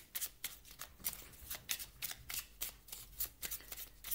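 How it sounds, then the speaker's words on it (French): Oracle cards being shuffled by hand before one is drawn, a run of crisp riffling bursts in a quick uneven rhythm, close and fairly loud, with no talk. "Je vais aller vous tirer une carte maintenant de l'oracle, du petit oracle du druide."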